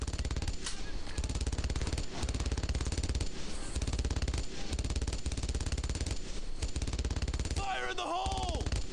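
Machine-gun fire in the World War II shooter Brothers in Arms: Earned in Blood, with continuous rapid rattling bursts that stay loud and dense throughout, plus a brief whistling sweep near the end.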